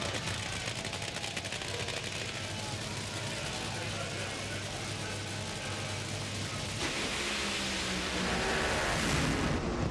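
Top Fuel nitromethane dragsters racing in a drag racing semifinal at Sonoma, with an engine blowing up in fire; a loud, continuous, broadband roar fills the whole stretch and swells slightly louder near the end.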